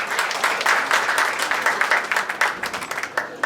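Wedding guests applaud together, a moderately loud run of brisk clapping with individual claps audible in a fairly steady rhythm, no speech over it.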